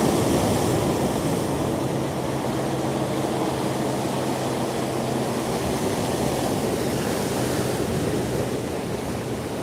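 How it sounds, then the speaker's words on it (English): Ocean waves rolling in at Waikiki, Hawaii, a steady loud surf wash with wind buffeting the microphone, continuous throughout with no voices. "Waves are coming in nice."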